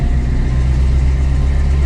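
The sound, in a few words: 1971 Dodge Challenger R/T engine accelerating through gears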